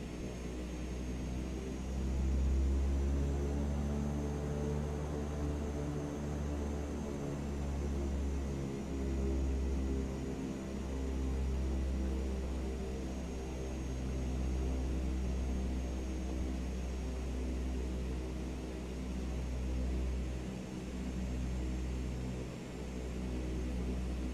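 A simulated airliner taxis in Microsoft Flight Simulator, its engines holding a steady, loud whine and rumble with a deep low drone and a thin high tone riding on top.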